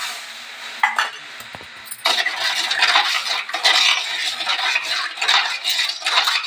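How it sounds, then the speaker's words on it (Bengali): Sugar stirred into water in a bowl while making rasgulla syrup: a few light clinks, then steady scraping and swirling of a spoon against the bowl, close and continuous. "চিনিটা ভালো করে মিশিয়ে নেবো।"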